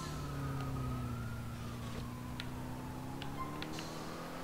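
Police sirens wail in the GTA IV video game, with steady sweeping tones held under a constant engine-like drone and a few faint ticks.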